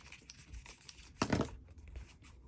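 Scissors snip through paper for an art journal page in one brief, close crisp cut with a rustle of paper, surrounded by quiet room tone.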